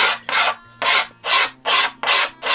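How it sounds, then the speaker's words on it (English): A card cabinet scraper pulled along hard European maple guitar binding produces loud, close rasping strokes in a steady rhythm, five or six even passes each a bright, breathy scrape, with no talk. "In my workshop, I use the card cabinet scraper a lot."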